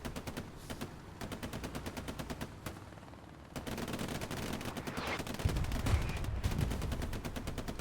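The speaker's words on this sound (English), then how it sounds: "That explosion." Rapid machine-gun fire rattles in fast, steady bursts in the video game Hell Let Loose on Omaha Beach, with heavier booms and rumbling explosions building near the end.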